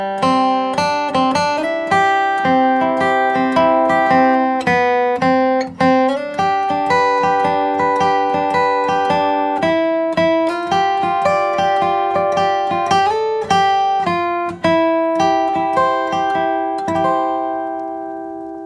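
Guitar plays a flowing crosspicked melody of "Banks of the Ohio" in a higher register, quick even picked notes ringing over each other, close and clean, alone, fading out at the end.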